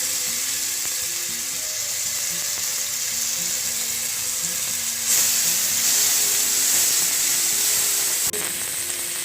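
Leftover marinade spices poured onto fried onions for tandoori chicken polao hiss in a loud, steady sizzle that swells sharply midway as more spice hits the hot pan.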